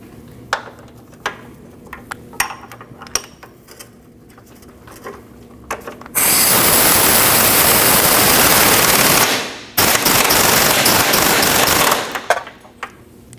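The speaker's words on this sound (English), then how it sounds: "you want to tighten and torque your bolts" Impact wrench tightening the front lower control arm bolts on a 2003-2008 Subaru Forester: scattered faint clicks and taps, then two long, loud, rattling bursts of several seconds each, separated by a short pause.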